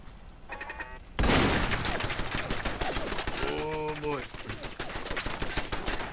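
Video game gunfire rings out in an online survival shooter set in London, with a sudden loud burst of rapid shots followed by continued scattered firing and a few tonal game effects.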